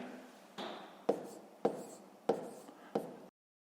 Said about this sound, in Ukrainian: Записуємо в дужках чого кілограм.